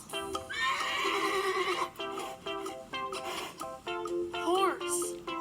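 Several loud, close horse neighs, shrill whinnies that rise and then tremble downward, come one after another with brief pauses.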